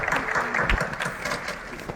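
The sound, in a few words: audience applause at a medal winners' felicitation ceremony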